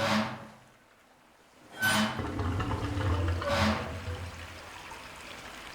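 Water rushing out as sluice gates open in the Silent Hill 4 video game: a quiet lull, then surging splashing bursts that settle into a steady, full flow of draining water.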